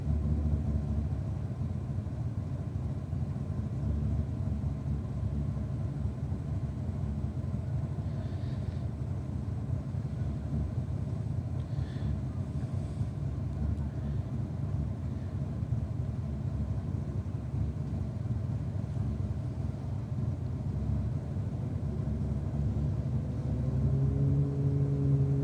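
A one-tonner car at a drag-race start line with its tyres spinning: a steady, loud engine roar and rumble running throughout, rising slightly near the end, with no voices.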